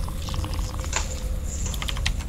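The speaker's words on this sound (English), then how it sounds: "Why would you get a mechanical silent keyboard?" Typing on a mechanical silent keyboard, a steady patter of soft key clicks with a few brighter taps, close and fairly loud over a low background hum.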